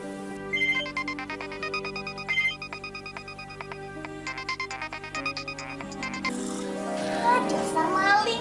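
A telephone rings on and on without being answered, a bright repeating electronic ringtone pattern at moderate volume, with other background sounds shifting in toward the end.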